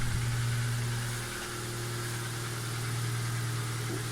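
A 2017 Kia Ceed 1.6 engine idles steadily up close, its low even hum carrying a faint suspected knock, with a slight dip in loudness midway and no speech.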